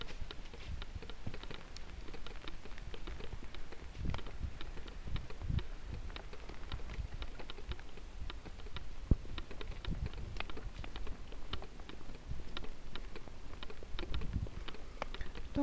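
Rain falling in small woodland, a steady soft patter of drops with scattered sharper ticks, faint and continuous throughout without talk.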